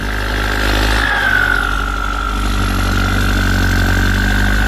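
A 7610 tractor fitted with 38-inch rear and 28-inch front tyres idles close by, its engine a loud, steady drone that swells slightly after the first second.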